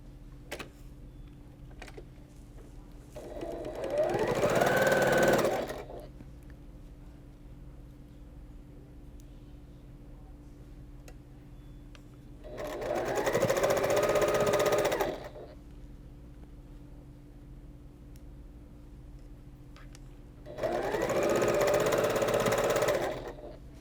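A sewing machine stitches a quilt block for a Scandinavian Christmas quilt, three separate steady whirring runs a few seconds each, close and clear against quiet room hum.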